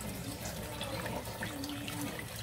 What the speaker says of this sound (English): I'm gonna put some more water in.